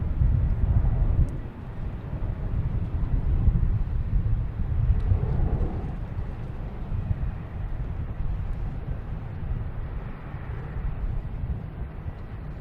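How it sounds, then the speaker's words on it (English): A Lufthansa Airbus A340-600 lines up on the runway at Boston Logan Airport, a steady broad jet-engine rumble heard from a distance and mixed with wind buffeting the microphone; no voices. "now finally, the Lufthansa A340-600 lining up"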